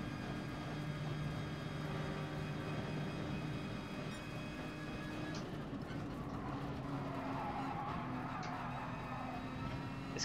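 A race car engine in Gran Turismo Sport drones steadily with shifting tonal whine, mid-level and continuous, against a background hum of the race.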